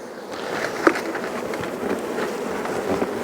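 Honeybee foragers buzz around the spot where their hive was removed, a steady close drone of many wings with individual bees passing nearer, set against a soft outdoor background.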